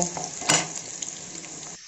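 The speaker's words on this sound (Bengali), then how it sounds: "আলু ভাজা হয়ে গেছে" Cut potato pieces frying in a pan after a spice tempering, heard as a close, steady sizzle with one brief stirring scrape partway through.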